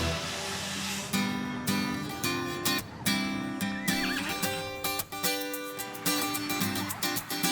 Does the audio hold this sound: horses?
yes